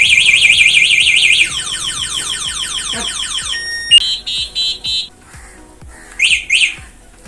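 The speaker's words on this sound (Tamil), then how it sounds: "யாராச்சும் வந்து டச் பண்ணாங்கன்னா எப்படி வந்துட்டு இது அலாரம் அடிக்கும்" An Okinawa electric scooter's anti-theft alarm wails loudly in warbling, rising tones, then shifts to a steady beep and short repeated chirping bursts with pauses between them.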